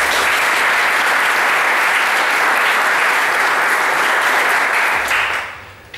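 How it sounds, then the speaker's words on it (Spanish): An audience at a fan convention contest gives loud, sustained applause for the sponsors and staff, a thick wash of clapping that holds steady for about five seconds before quickly dying away. "quería pedir un aplauso para los mecenas anónimos y los miembros del staff"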